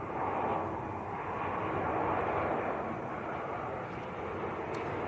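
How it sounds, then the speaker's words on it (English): A Turkish Airlines Airbus A321ceo from Istanbul roars steadily at Manchester Airport, a loud, continuous broadband engine rumble with no break. "Airbus A321, that's not a Neo, it's a CEO."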